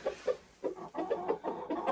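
A hen clucks in short soft bursts, close and repeated in an irregular rhythm, among a small backyard flock of laying hens while eggs are gathered from under her.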